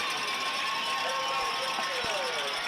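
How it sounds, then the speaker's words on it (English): A high school football crowd at a Huntsville Hornets home game on senior night sends up a broad, steady roar as the home defense faces third down and nine. The noise stays sustained and distant throughout. "They've got the crowd fired up."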